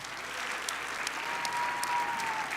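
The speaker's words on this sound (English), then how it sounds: "Let's give the Row, Atlantis Casino Resort, the Peppermill GSR, Harrah's Whitney Peak, and the Sands a huge round of applause" Sustained crowd applause at a 2019 State of the City address, a dense, even patter of many hands with a few crisp nearby claps and a faint thin whistle-like tone rising through the middle.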